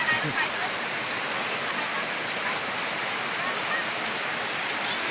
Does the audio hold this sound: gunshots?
no